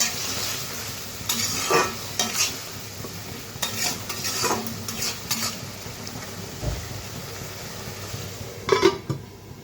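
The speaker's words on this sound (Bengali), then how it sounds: "ভালোভাবে নেড়ে চেড়ে আবারও ঢেকে রাখবো মশলাটা কষানোর জন্য" Spice paste with Kashmiri chilli powder is stirred and sautéed in a pan, giving a low steady sizzle broken by repeated scraping and clanking strokes of a spatula against the metal, with no talking.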